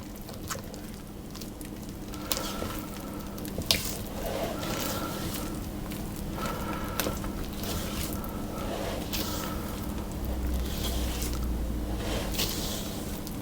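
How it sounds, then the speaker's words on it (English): Pumpkin loaf cake batter being stirred in a bowl, continuous wet squishing and scraping with soft rhythmic strokes, close and steady. "I want to make sure that I get it evenly mixed so that there's no very wet patches or areas of the batter."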